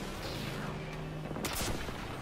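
Rocket launcher fire in Destiny 2 during a solo Prestige Nightfall run: low, steady rumbling combat noise, then a sharp explosive burst about two-thirds of the way through, with no talking.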